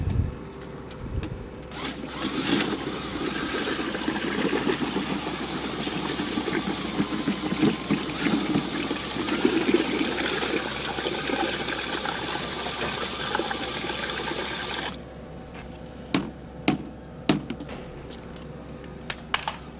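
FireIce extinguisher powder is stirred into water in a bucket, a continuous churning, sloshing mechanical sound for about fifteen seconds, then a few separate knocks and clunks.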